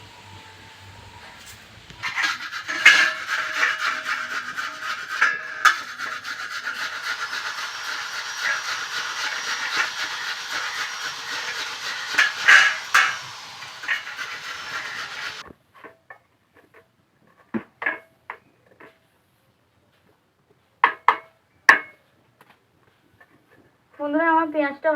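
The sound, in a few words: grating onion on a grater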